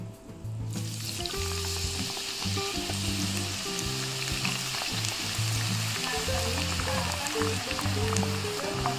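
Cassava chips deep-frying in hot oil at the last frying stage, a dense continuous bubbling sizzle, close and steady with no pause.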